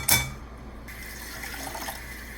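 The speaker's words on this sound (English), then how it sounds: "Wash the rice." Brown rice is rinsed with water in a pot: a brief splash at the start, then a steady gentle flow of running tap water, close and continuous with no voices.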